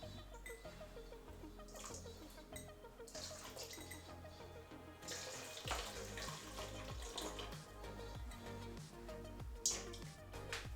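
Boiling water is poured out of a glass jar in a long, continuous splashing gurgle with small clinks and drips, quiet and close.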